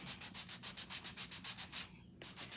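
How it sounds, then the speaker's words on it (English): A small sander runs along the edges of a wooden craft piece in quick rhythmic passes, a close buzzing grind that briefly stops before starting again. "I just kind of take my sander and I go along all 4 edges here."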